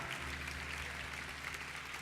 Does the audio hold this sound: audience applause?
yes